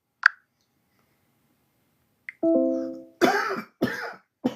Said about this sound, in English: Sorry for the coughing here.